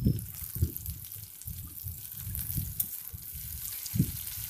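Capsicum sizzles in a frying pan for egg chow mein, a soft steady crackle with a few low clattering bumps from stirring.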